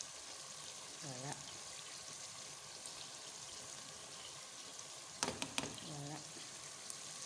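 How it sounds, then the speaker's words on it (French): Meat sizzles steadily in a hot pan, a dense continuous frying hiss with a few scrapes and clinks of stirring, while a voice speaks briefly over it. "Voici la viande qui est en train de frire."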